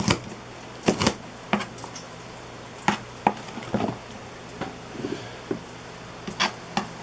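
Knife chops bell pepper on a board in irregular sharp, close taps, some in quick pairs, with quiet gaps and faint background hum in a kitchen.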